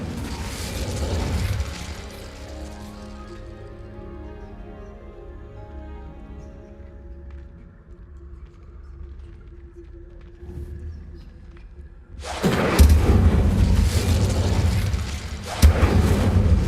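The Incendio fire spell is cast in Hogwarts Legacy with a loud burst and whoosh, followed by a long, fading magical ringing tone, then a second loud, crackling blast near the end.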